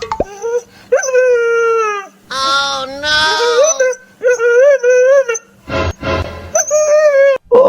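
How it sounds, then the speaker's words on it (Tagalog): A dog whines and grumbles close by in a series of drawn-out, wavering cries with short pauses, while a person briefly speaks between them. "Ikaw lang aso naririnig kung bumubulong-bulong"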